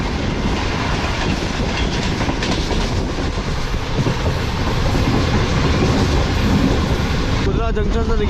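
The Tezgam passenger train pulls out of Kudra junction, its carriages rumbling with a steady clickety-clack of wheels over rail joints, loud and continuous, with a voice speaking faintly beneath.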